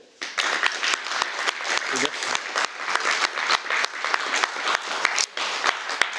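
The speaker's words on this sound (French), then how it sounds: "Je crois qu'on peut l'applaudir." An audience at a political conference applauds a guest speaker, a loud, dense burst of clapping that starts abruptly and holds steady throughout, with a brief voice heard under it.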